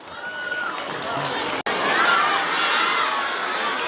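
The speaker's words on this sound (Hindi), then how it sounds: "एक बार सर के लिए ज़ोरदार तालियाँ।" A crowd of schoolchildren at a sports meet cheers and shouts loudly in a sustained, excited roar, with mixed voices and possible clapping blended in; a brief dropout cuts the sound midway.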